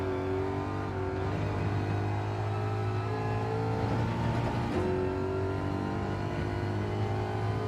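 A race car engine in Gran Turismo 7 drones steadily through a lap, a constant loud mechanical hum with rich harmonics, shifting slightly in pitch as the car brakes and accelerates.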